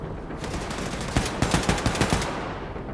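Enemy gunfire in Wolfenstein II arrives as a rapid, rhythmic automatic burst of about eight close, punchy shots over a continuous roar of noise.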